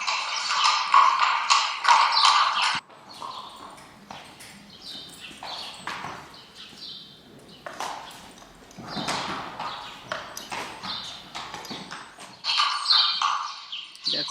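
Horse hooves clip-clopping on the ground during lunging training for doma vaquera, a steady series of close taps with faint birdsong in the background.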